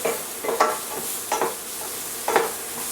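Leeks cooking in butter in a pan over low heat, with soft sizzling under three or four brief stirring scrapes spaced a second or so apart, close and fairly quiet.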